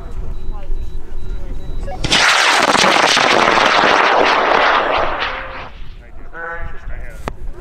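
A yellow and black high-power model rocket, 3.1 inches in diameter and 55 inches long, ignites with a sudden loud roaring whoosh that holds for about three seconds, then fades as it climbs away at an outdoor launch event; voices are heard before and after.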